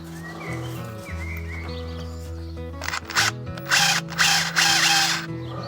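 A large power drill runs in short bursts during rooftop renovation work, its whining motor rising loud and close over a steady hum of other machinery.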